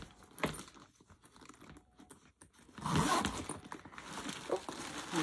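A zipper on a bag's large side pocket is pulled open in one quick rasping run after some soft handling rustle, close and fairly quiet.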